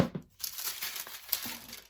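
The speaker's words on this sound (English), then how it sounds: "I'm going to use the scissors this time." Scissors snip through a small paper strip in short crinkling cuts, close and fairly quiet, with no talking.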